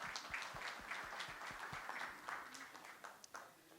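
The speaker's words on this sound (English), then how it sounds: "a round of applause for everyone who's associated with this beautiful game of cricket" Applause from a crowd at a cricket book launch ceremony, a fairly faint, continuous patter of many hands clapping that thins toward the end.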